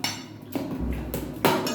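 Boiled beetroot, carrot and other vegetables for pav bhaji being mashed with a spoon in a pot, heard as a few close metallic knocks and scrapes spaced across the short stretch.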